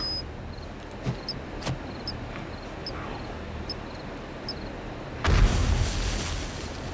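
A muffled explosive detonation in the zombie game 7 Days to Die bursts near the end, a broad low rumble following a few scattered clicks and soft thuds over steady background noise.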